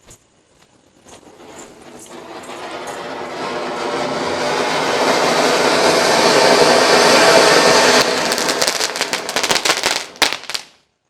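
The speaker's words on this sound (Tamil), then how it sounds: "சிட்புட் சட்டன்னு அடிச்சிருச்சு" Diwali chitput firecrackers burst in a loud, dense crackling barrage that swells over several seconds and ends in a few sharp final pops, with no voices.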